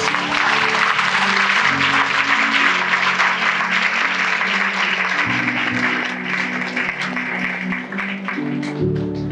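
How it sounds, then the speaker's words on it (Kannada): A crowd claps loudly and steadily for several seconds, the applause thinning slightly toward the end while voices murmur underneath. "ಯೇಸುವಿಗೆ ಒಂದು ಒಳ್ಳೆ ಚಪ್ಪಾಳೆ ಕಾಣಿಕೆ ನಾನು."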